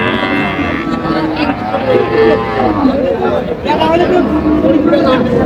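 At a busy cattle market in Dinajpur, a cow with her calf moos in close, repeated lows, heard through loud bargaining voices and crowd chatter.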